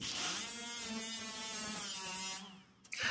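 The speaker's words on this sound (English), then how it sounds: "Now we just come back, hit it with the flap wheel, and it is that easy." A 60 grit flap wheel on a power grinder dresses down welds on auto body sheet metal, a steady loud whirring drone with harmonic whine that cuts off near the end, followed by a brief clunk.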